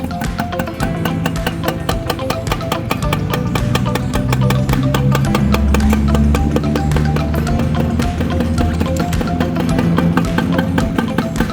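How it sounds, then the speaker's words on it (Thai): A Yamaha Mate 100 motorcycle's small engine runs after starting, a steady close-up putter with rapid regular ticking pulses and a low hum, varying slightly in pitch as it idles and revs. "เดี๋ยวเรามาฟังเสียงเครื่องยนต์กัน สตาร์ททีเดียวนิ้วเดียวฮะ"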